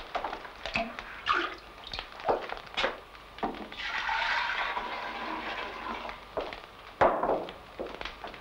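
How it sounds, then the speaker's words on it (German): Cold water splashes and runs in irregular bursts as a cream jug is rinsed out in a farmhouse butter-churning setting. The sound is faint to moderate, with clinks and pours and a longer trickling stretch in the middle. "Deshalb spült die Darstellerin den Rahmkrug mit kaltem Wasser aus, um es dem Rahm beizugeben."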